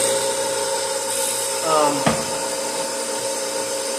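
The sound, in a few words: Sellers 4G drill grinder sharpening a drill bit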